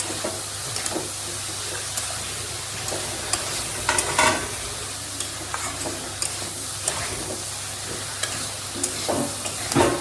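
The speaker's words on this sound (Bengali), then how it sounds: "কচুর লতির সঙ্গে যে চিংড়ি মাছ কত সুন্দর করে নাড়িয়ে চাড়িয়ে যে রান্না করছি" Prawns with taro stolons frying in a pan, stirred with a utensil: a constant close sizzle with scraping, clinking stir strokes coming every second or so, no voices.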